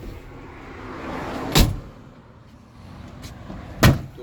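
Two sharp solid thuds a couple of seconds apart as the door of a 1971 Ford XY Falcon GTHO Phase 3 in Vermilion Fire is shut, with a faint rustle of movement between them.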